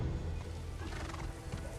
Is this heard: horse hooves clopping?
yes